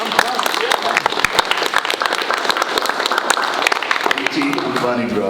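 Middle school students in an assembly clap in a burst of sharp, scattered handclaps for a visiting speaker, loud and close, with voices and chatter mixed in throughout.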